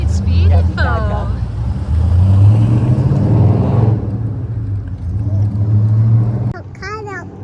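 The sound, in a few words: car driving past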